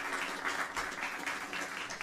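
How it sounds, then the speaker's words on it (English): Audience applause at a live music concert fills the room as a steady, dense wash of clapping throughout, moderately loud and sustained with no voices on top. "How about a big round of applause for this guy sitting there with me tonight"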